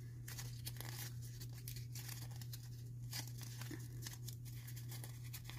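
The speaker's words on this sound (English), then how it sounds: "Crumple it up." Dried paper is crumpled and torn by hand for a layered heart craft, a continuous close crinkling and tearing over a low steady hum, with no talking.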